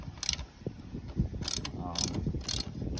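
A loosened bolt comes off a Mitsubishi Montero 3.2 in a shop with a ratchet, giving close clicking and mechanical rattles in short irregular bursts. Faint background noise sits underneath.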